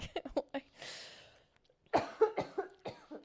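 A burst of several sharp coughs, a breathy pause, then another run of harsh coughs close up.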